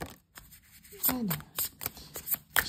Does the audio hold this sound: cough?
no